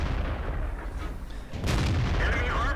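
Tank gun fire from an E-25 tank destroyer in World of Tanks, a rapid-reload cannon, with one heavy boom and a rolling blast partway through over a continuous rumbling battlefield din.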